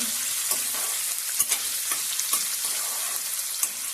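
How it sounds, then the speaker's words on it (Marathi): Onions frying in a pan for a Konkan-style suran (elephant foot yam) bhaji, with a steady close sizzle broken by several sharp scrapes and knocks as the pan is stirred. "कांदो घालून घ्यायचो कांदो पण आपण भाजून घ्यायचो"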